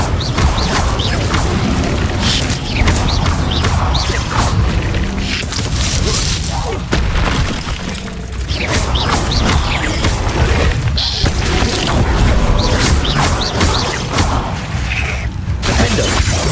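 Fire spell effects blasting and crackling in the Hogwarts Legacy video game, dense continuous combat noise with shattering crashes and whooshes, loud throughout with spoken voices mixed in.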